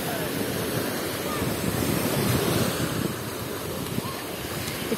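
Black Sea waves rolling onto the beach at Veselovka, Krasnodar Krai, heard as a continuous close surf rush mixed with gusty wind noise on the microphone, with no voices.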